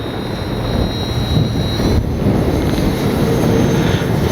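A radio-controlled OV-10 Bronco model airplane flies on an afternoon sortie at a flying-field flightline, its engine giving a steady, fairly loud drone throughout with no talking.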